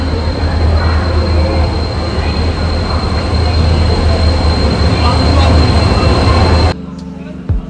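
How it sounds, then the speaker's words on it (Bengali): The Visakhapatnam Hirakud Express rolls into a station, a loud, continuous rumble of wheels on rail with a heavy low drone and some metallic squeal, easing off near the end. "ফাইনালি এখন আমাদের ট্রেনটাও আসলো"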